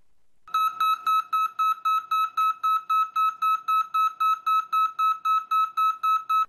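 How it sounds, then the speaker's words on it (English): Brake monitor alarm on a trailer dolly beeping in a steady, rapid series of identical electronic tones, about three per second, loud and clear with no voices. "the brake monitor alarm on the dolly will beep after 15 seconds until charged"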